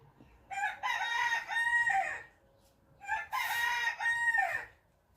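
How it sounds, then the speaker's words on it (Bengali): Two loud rooster crows, one after another with a short pause between, each long and drawn out with a falling end, close by and alone. "আজকে তো হয়তো তোমরা শুনলে মোরকের ডাক"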